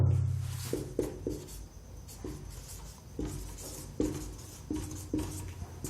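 Chalk or marker scratching out a heading on a board in a chemistry lesson: a run of short, quiet strokes in an irregular rhythm, close by and with no voice over it.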